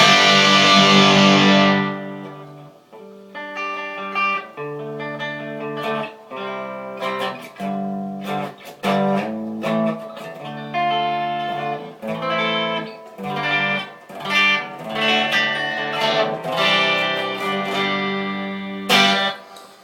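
Heavily distorted electric guitar plays chords and riffs, opening with a sustained crunchy strum, then choppy rhythmic phrases with short pauses between.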